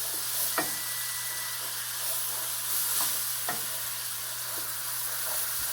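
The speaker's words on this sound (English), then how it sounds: "Just keep stirring so it doesn't create any lumps" Turkey drippings gravy is stirred in a pan, giving a steady soft sizzle and hiss with a few light scrapes of the spoon, close and continuous with no voices.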